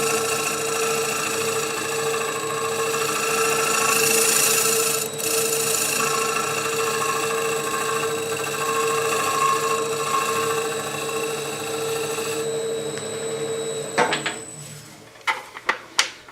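A woodturning lathe spins a wooden bowl while a hand tool cuts the inside of its curve. A steady, droning motor hum carries scraping texture throughout, then stops near the end with a few sharp clicks and knocks.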